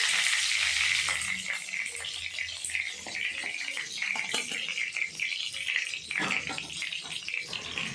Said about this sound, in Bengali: তেলে দিয়ে দেব কারি পাতা